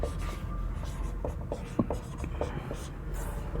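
Pen or chalk writing by hand during a Sanskrit grammar lesson, a steady run of short scratchy strokes and taps close by, with light background hiss and no clear talk.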